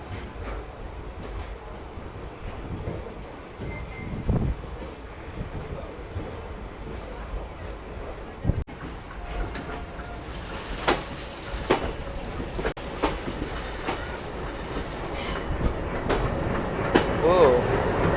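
An express train rolls out of Mangaluru Central, its steady rumble and rail noise running throughout with occasional sharp clanks, while a voice talks over it.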